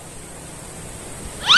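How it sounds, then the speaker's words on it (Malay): A cat gives a single short meow near the end, fairly close and clear above a faint steady background hiss. "Kucing tuh."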